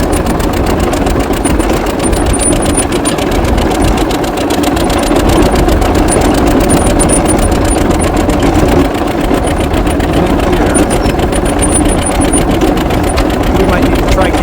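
An International TD-6 tractor engine runs in diesel mode with a loud, close, continuous rough chugging that has a misfire fault, steady throughout and with brief speech over it.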